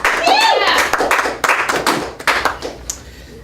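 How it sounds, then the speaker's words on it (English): Short bursts of clapping from a small audience at an intimate show, uneven and sparse hand claps close by, mixed with a voice and some chatter. "Let's hear some applause for the basket of questions"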